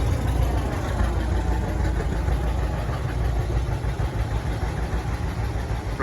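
A vintage oil-cooled two-cylinder tractor engine runs steadily at a show, a loud, continuous low chugging throb close by with no pauses.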